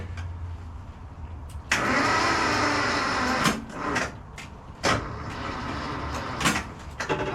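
A jumper-wired engine in a shop cranks and catches with throttle applied, loud bursts of starter grinding and engine noise rising and falling in several surges, heard close with no talking.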